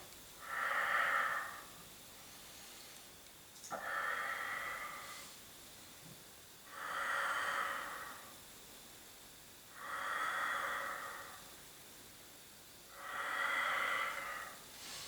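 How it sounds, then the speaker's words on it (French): Slow, steady breaths during a Pilates exercise, five soft airy exhales and inhales repeating at an even pace about every three seconds, close and quiet with no talking. "j'expire et je reviens, j'inspire"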